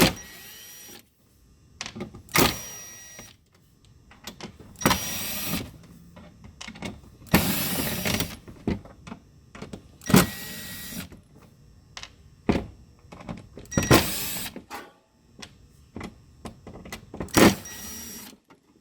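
A power screwdriver backs screws out of the top of a sauna power control box panel: about eight short, whirring motor bursts separated by brief pauses, close and fairly loud, with no talking.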